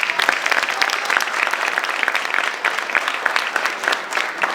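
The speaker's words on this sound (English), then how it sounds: "So give them a round of applause." Applause from a community audience in Hempstead Village for children who sang, a steady crowd of handclaps lasting several seconds at close range.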